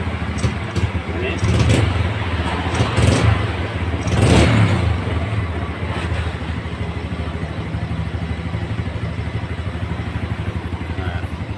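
A Yamaha Vega R motorcycle engine with a morning starting fault runs close by, its throttle blipped into several rising revs in the first half before it settles into a steady, rattling idle.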